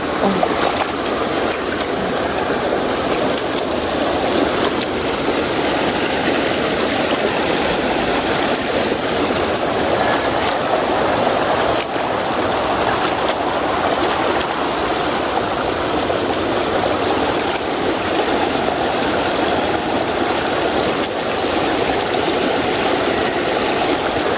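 Flooded river water rushing past a riverside hut, a loud, continuous broadband roar that holds steady throughout without breaks.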